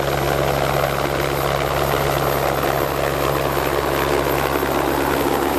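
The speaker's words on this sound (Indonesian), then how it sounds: "Ada helikopter berwarna hijau daun." Green helicopter flying nearby, a steady loud rotor and engine drone holding constant throughout with no pauses or voices.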